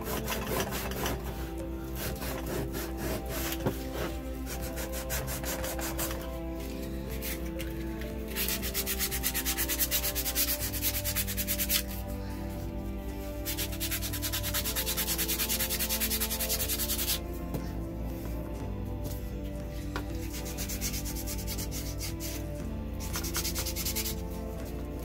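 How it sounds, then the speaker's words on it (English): Wood being sanded by hand while making small decorative tables, a steady, continuous rasping rub of abrasive on wood that carries on for a long stretch, loud and close, with only slight shifts in intensity. "it also sands the wood you're working with"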